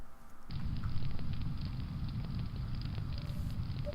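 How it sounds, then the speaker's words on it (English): A wood fire burns in a home fireplace, giving a steady close crackle with scattered sharp pops over a soft low rumble, with no voices. "Fire's still just crackling warmly."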